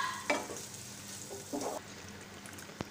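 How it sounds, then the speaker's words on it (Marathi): Paneer gravy thinned with half a cup of water, simmering in a pan, with a soft bubbling sizzle and a few stirring scrapes and taps, close and fairly quiet. "आता याला उकळी आलेली आहे."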